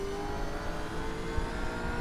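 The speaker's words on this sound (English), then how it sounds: "The revs were dropping down a bit low." A Gen 3 V8 Supercar engine drones in the racing game iRacing at Twin Ring Motegi, a loud, continuous in-car engine tone that sits at steady revs throughout.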